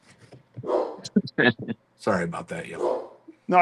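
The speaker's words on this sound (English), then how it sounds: "Sorry about the dog." A large Cane Corso, about three years old and 145 pounds, barks indoors in short bursts, interleaved with a person talking nearby.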